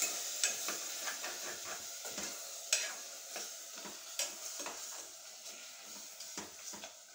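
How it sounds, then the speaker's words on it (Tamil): Goat head meat being stirred into frying tomatoes, ginger-garlic paste and oil in a pan, with repeated scraping strokes of a spoon over a constant hiss of sizzling, fairly quiet and without talk. "நம்ம தலைக்கறியை போட்டுடணும். போட்டு நல்லா கிளறணும்."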